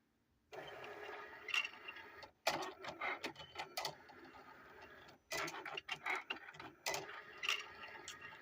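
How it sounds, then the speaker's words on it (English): A craft cutting machine cuts vinyl, its motor whirring and ticking in several long bursts broken by short pauses, close and steady with no talking. "And then the machine's gonna start cutting."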